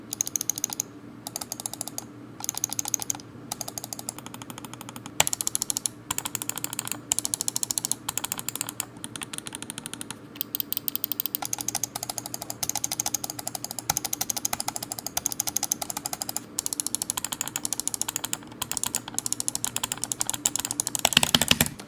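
Clicking switches of a Hades M1 wireless mouse, a long run of sharp, close, fairly quiet clicks in irregular clusters with brief pauses, no voices.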